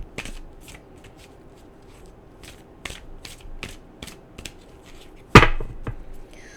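Tarot cards are shuffled by hand in a series of soft, close riffles and taps, ending with one louder, sharp flick of the deck.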